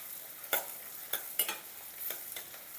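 Onions fry in a pan for capsicum masala curry, a soft hiss broken by several quick stirring scrapes at an uneven pace, fairly quiet and close.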